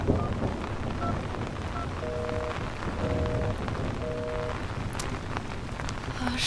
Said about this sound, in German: Oh, verfluchter Regen.